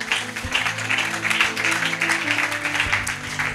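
Church congregation applauding steadily throughout, a dense continuous patter of clapping over a low sustained background hum, moderately loud, with no speech.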